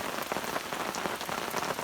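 Rain falls steadily at a van campsite in Oregon, a close, even patter of drops hitting a surface with no voices.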